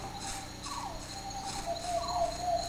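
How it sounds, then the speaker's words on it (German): Meatbugs in the video game Gothic chirp in a dense, continuous insect-like trill. Faint repeated high chirps rise and fall over a steady background drone, with no talk. "Fleischwanzen, die zirpen so"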